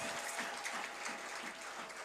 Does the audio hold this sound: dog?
no